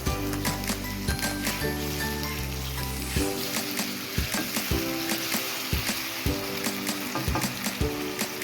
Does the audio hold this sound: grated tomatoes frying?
yes